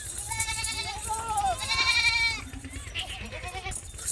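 Several Teddy goats bleat at a goat farm, overlapping wavering cries close by, some loud and drawn out, with rustling and farmyard noise around them.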